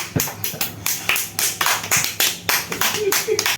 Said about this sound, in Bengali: একটা হাততালি দাও।